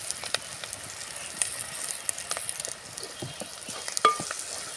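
Spice-coated flattened rice (poha) being tossed and stirred in a pan for a crunchy atukula mixture, giving a steady soft scraping and light sizzle with a few sharper knocks of the spoon against the pan.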